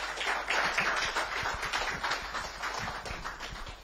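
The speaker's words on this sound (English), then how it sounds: "So can I request that we actually do another round of applause for him?" Audience applause at a corporate farm launch event in Lagos, a sustained patter of many hands clapping, moderately distant and fairly soft.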